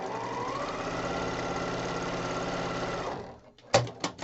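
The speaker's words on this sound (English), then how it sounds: "you can flip that around without even cutting the thread and go to the other side of the line and sew down that side as well" A sewing machine stitches quilt pieces for a Bright Star block, running at a steady, fast whirring rhythm for about three seconds. It then stops, and a few sharp clicks follow.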